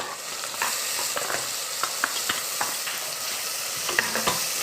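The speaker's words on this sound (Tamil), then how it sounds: "போட்டு நல்லா ஸ்மெல் போகிற வரைக்கும் நல்லா வதக்கி விட்டுக்கோங்க" Onions sautéing with ginger garlic paste for a South Indian beef curry, a dense, close sizzle with intermittent scraping stirs of a spoon against the pan, no voices.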